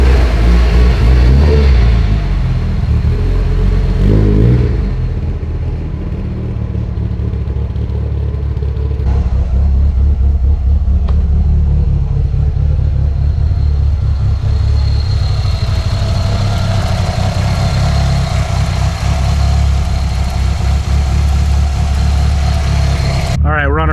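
A car on its first short drive after shop work rumbles loudly and steadily, its engine idling and revving, with a person talking over it at times.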